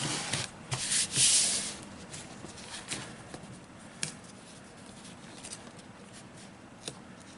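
Adhesive tape is pressed and rubbed onto the backs of wood plank strips, making soft scraping and rubbing noises. A brief louder crinkle is followed by scattered quiet taps and brushes.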